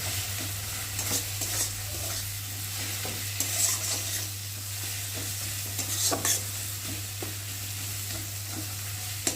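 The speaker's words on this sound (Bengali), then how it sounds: "আর দেবো দুটো কাঁচা লঙ্কা চেরা দিয়ে মশলাটাকে ভালো করে ভেজে নেব" Spice paste with chilli powder and two slit green chillies frying in a pan, stirred steadily throughout with scraping clicks over a constant sizzle and a low steady hum beneath.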